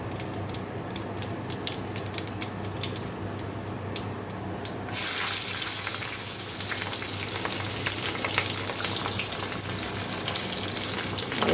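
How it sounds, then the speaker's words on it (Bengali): Nigella seeds hit hot oil left from frying fish in a pan. A quiet low sizzle jumps into a loud, bright hiss and spatter that carries on steadily and close up. "এই যে মাছ ভাজা হয়ে গেছে এবার আমি এর মধ্যে কালো জিরে ফোড়ন দেবো"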